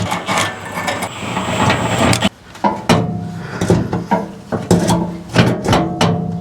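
Metal bolts worked loose from a skid plate beneath a 2003 Toyota 4Runner 4.0L V6, heard as close, irregular clanks, scrapes and tool rattles in a dense, busy jumble with no talking.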